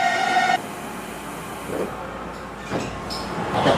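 A Tobu Skytree Line train in Tokyo rumbles steadily at moderate volume, with a brief high tone at the start and faint clatter and passing noises over the continuous rolling drone.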